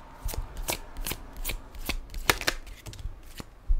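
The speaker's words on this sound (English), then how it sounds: "I'm going to add on a talisman card here for you." Tarot cards are handled and shuffled close up, giving a run of quick papery flicks and soft slaps at an uneven rhythm, ending with a card set down.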